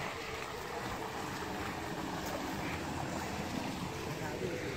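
A river flows from its spring at Sumber Wendit Lanang, a natural bathing spot, with a constant faint broadband rush of water and no speech.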